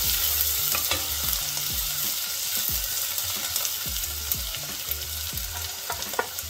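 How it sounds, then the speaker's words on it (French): Chopped onions fry in hot olive oil for a tomato sauce, a dense, constant sizzle close by, broken by a regular series of low knocks and scrapes from stirring, with no talk. "J'ai chauffé de l'huile d'olive. Je vais ajouter les oignons."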